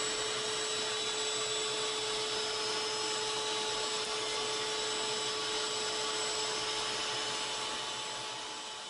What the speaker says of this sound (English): the apparent roughness of the cut that you see here is not due to the Zenbot, but rather the type of cutter end mill that I was using